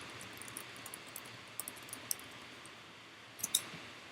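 Faint, scattered clicks of typing on a keyboard, sparse taps clustered in short bursts over a quiet room background.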